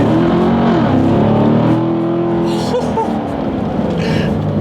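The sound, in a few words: 2017 Chevrolet Corvette Grand Sport accelerating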